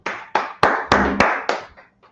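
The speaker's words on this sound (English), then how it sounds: "All right, clap it up for the class." A class claps in slow, evenly spaced loud beats, about eight sharp claps in unison that fade out at the end, close by with no talking.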